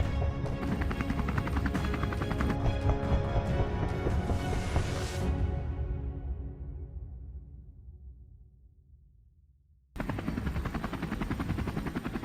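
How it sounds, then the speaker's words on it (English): A helicopter during an aerial wild boar hunt, its loud dense rotor thrum and whine filling the opening seconds, then fading away into near silence before the heavy flight noise abruptly returns. "We were in the helicopter and headed out to the vast plains."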